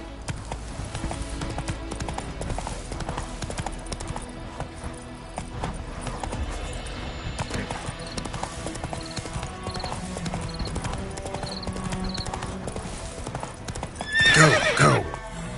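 The horse Roach trotting with a steady, rhythmic clip-clop of hooves throughout, then a loud, shrill neigh near the end, close by.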